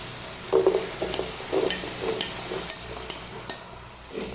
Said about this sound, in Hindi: अभी हम इसमें सफ़ेद चने डालेंगे